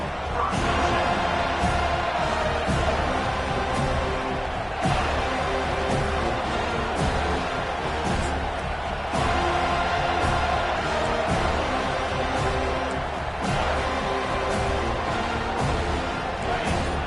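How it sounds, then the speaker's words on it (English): A packed stadium crowd at a college football game between Georgia and Florida State roars loudly and steadily throughout, a dense wall of cheering with no break. "This crowd bringing an ear-splitting welcome to their visitors"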